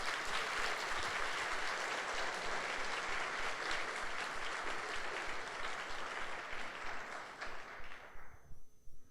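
A church congregation at a Sunday service breaks into sustained, dense applause that fills most of the clip, then thins out and fades near the end.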